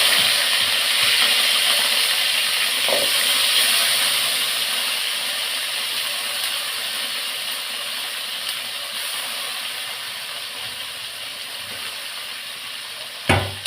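Mixed greens are sautéed in a pan of oil left from frying cauliflower, a steady soft sizzling hiss that slowly fades, with a single clink of a utensil near the end.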